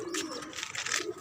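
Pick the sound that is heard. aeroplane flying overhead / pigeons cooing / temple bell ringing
pigeons cooing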